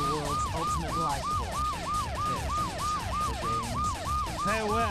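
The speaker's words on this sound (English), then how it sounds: "Sorry, Sonic, I can't hear you over the police." Loud wailing police siren from the Sonic Adventure 2 video game, a steady repeating rise-and-fall sweep that fills the whole stretch and sits over busy game music and effects.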